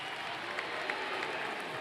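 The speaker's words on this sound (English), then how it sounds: "We applaud all of you for a job well done." Applause from a large audience at a Spring 2022 university commencement ceremony: a dense, steady wash of many hands clapping at once, sustained and fairly loud throughout.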